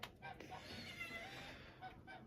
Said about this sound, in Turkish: Şöyle kediler de yemeğini yesin.